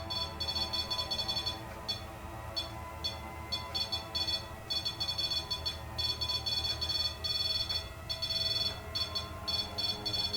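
A REM pod ghost-hunting device sounds its electronic alarm, a loud, high-pitched beeping that pulses in irregular bursts and pauses for about ten seconds, with no voices.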